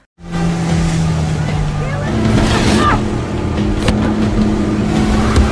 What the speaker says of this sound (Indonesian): sembari kapal gas full mengarah ke daratan